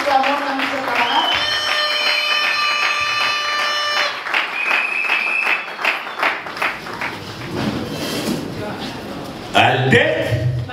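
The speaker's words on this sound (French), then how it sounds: "Acclamons, acclamons, monsieur le camarade." A crowd claps and cheers for a party secretary general at a political rally, the applause mixing with loud singing, music and voices throughout.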